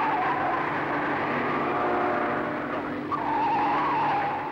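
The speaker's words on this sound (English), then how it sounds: "Most of the bends are left-handers and you can hear the rubber squeal." A 1965 racing car's tyres squeal on a left-hand forest bend during the Armstrong 500 race, a steady, loud skidding screech over engine roar lasting the whole stretch, with a sharper squeal surge near the end.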